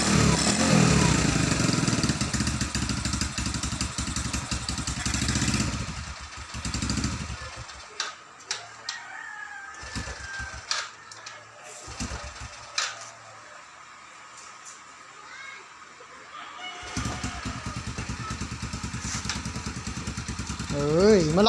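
A rebuilt Yamaha X1 motorcycle, repaired after a carburetor fault, runs with its engine buzzing loudly nearby, then drops to an uneven idle with sputters before revving strongly again. People talk over it.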